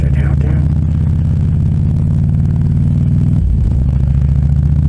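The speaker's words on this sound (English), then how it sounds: "Riding along on my motorcycle." A motorcycle rides along a road, its engine humming loud and close in a steady low drone, dipping briefly as it shifts near the end, while someone talks over it.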